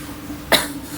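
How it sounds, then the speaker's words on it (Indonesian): A single short cough, close and sharp, breaking a quiet background. "Maaf agak batuk ya."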